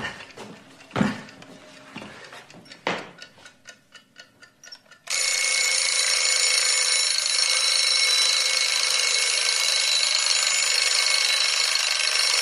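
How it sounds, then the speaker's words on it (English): A few soft ticks and clicks, then an alarm clock bursts into a loud, continuous metallic ring that holds steady and close for the rest of the clip. "the alarm rings"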